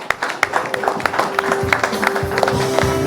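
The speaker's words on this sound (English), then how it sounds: "Huge round of applause for Janhvi Kapoor." Audience applause at an awards ceremony for actress Janhvi Kapoor, a steady patter of clapping hands with some louder individual claps, heard alone and fairly close.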